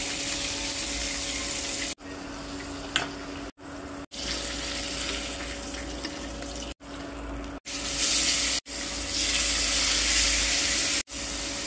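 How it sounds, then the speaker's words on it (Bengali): Rupchanda fish, rubbed with turmeric, salt, chilli powder and lemon juice, frying in a pan: a steady broadband sizzle with abrupt cuts between segments, growing louder and brighter toward the end, no voices. "এখন লাল করে ভেজে নেব মাছটা।"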